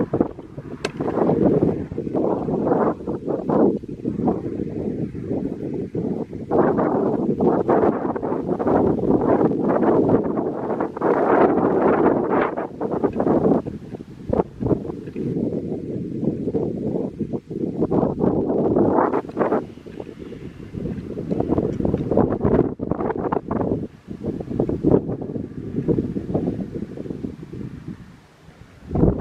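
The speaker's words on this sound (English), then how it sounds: "Now the noise you hear, the howling wind." Strong wind gusts buffet the microphone outdoors on the coast of Curaçao, a continuous loud rumbling roar that surges and eases over half a minute, with faint rustling beneath and no talk.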